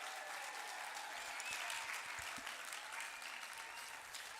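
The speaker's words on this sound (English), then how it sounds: "One more round of applause for all of our graduates today." Audience applause for graduates at a university commencement ceremony for business, computing and engineering schools, a dense, steady wash of many hands clapping that holds throughout at an even, moderate level.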